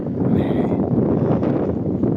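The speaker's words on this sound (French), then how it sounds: "Il y a du vent, je sens un peu trop s'il y a du vent." Wind blowing outdoors in open countryside where deer graze, a steady broadband rush buffeting the microphone throughout, continuous and fairly loud with no talk.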